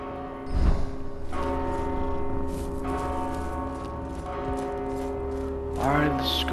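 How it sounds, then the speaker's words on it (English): Bell tolling in the dark fantasy action game Mortal Shell, sounding as repeated resonant strokes that hang under steady ambient game music, with a brief louder swell near the end. "That bell is pretty annoying, I have to say."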